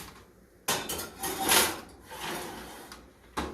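A keto cheeseburger casserole dish goes into a home oven with a few sharp knocks and clatters, then a hollow shuffle and scrape as it slides in, close by.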